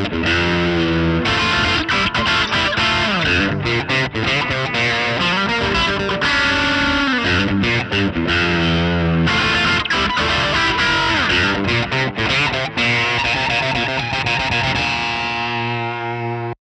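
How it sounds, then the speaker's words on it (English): A distorted lead guitar melody on a Vigier Expert Strat-style guitar through a Line 6 Helix carries sustained, bending notes with a chorus-like sheen, loud and continuous for the whole stretch over a backing track, with no talking. "the guitar I was using for all the parts so far is my Vigier Expert Strat style guitar"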